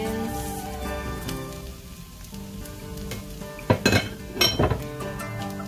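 Egg and scallions get stirred together in a pan, soft sizzling throughout with a few sharp utensil clanks and scrapes toward the end.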